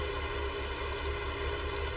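Steady rain falling outdoors in a valley during late-season hay baling, a constant even hiss of drops with no pauses, continuous and moderately loud throughout.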